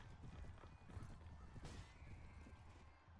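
Horse hooves clip-clop faintly in the Mount and Blade Warband video game, a quiet, irregular patter of footfalls with a soft whinny-like tone and distant background noise.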